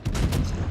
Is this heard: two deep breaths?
no